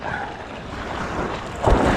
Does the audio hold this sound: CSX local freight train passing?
no